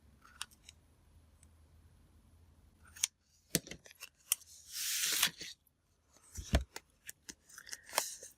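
Scissors snip through cardstock while cutting out Christmas tags, a few quiet clicks followed by a longer, louder run of crisp cuts and rustling paper, close to the microphone with no talking.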